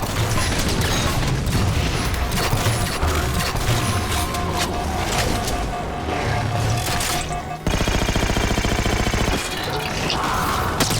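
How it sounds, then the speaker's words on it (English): Repeated heavy energy-weapon blasts from a concussion rifle in the video game Halo 4, booming loud and dense over a busy battle backdrop, firing in rapid bursts almost continuously. "Did you shoot that concussion rifle at me?"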